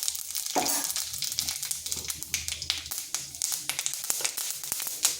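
Dry chili, bay leaf, five-spice and black mustard seeds sizzle in mustard oil, a steady close crackling hiss broken by sharp popping taps as the seeds burst, with no talking.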